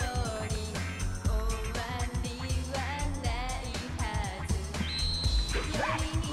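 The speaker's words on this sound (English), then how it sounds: "Where'd that dog come from?" Cartoonish dog barks and yips from the dance video game Bust A Groove, popping up repeatedly amid loud, busy game music with a steady beat.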